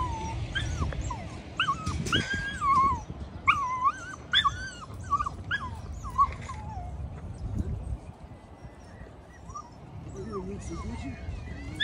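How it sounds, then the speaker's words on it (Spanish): A small dog whimpers and yips in repeated high, wavering cries inside a hospital, close and fairly loud, with people talking in the background throughout. "Un perrito."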